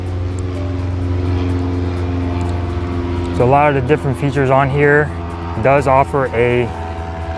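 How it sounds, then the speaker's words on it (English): An airplane passes overhead as a low, steady droning hum that fills the background while someone talks over it for much of the time. "Wait for this airplane to go by."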